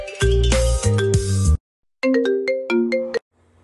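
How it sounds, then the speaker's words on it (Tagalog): A short melodic phone ringtone converted from MP4 to MP3, playing bright synthetic notes in two bursts separated by a brief silence, clean and loud with no talk. "So pwede na natin siyang gawing ringtone."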